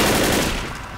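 Rapid gunfire in the video game Left 4 Dead, Rooftop level, a loud, dense burst of automatic shots lasting about a second.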